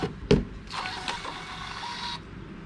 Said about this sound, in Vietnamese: Đây mình sẽ in thử cho các bạn xem thôi nha.